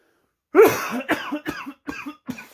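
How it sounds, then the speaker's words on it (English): A string of coughs, one harsh burst followed by several shorter ones at uneven intervals, close and fairly loud with no talking. "Sorry if I keep coughing."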